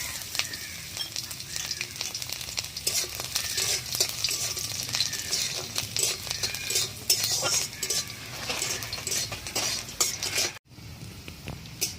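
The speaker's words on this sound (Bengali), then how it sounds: "এবার আমি দিয়ে দেবো কেটে রাখা রসুন দিয়ে" Chopped garlic frying in hot oil in a wok with dried red chillies and black cumin, a steady close sizzle with scraping and stirring clinks of a spatula throughout, a brief cutoff near the end.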